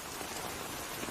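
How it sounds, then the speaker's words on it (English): Steady rain pours down in a period English village setting, a dense continuous hiss of drops on surfaces filling the short moment with no voices. "it'll be easier to come in out of the rain, Fancy."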